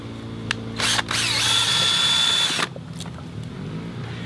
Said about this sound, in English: I'm going to begin mixing it up with my drill.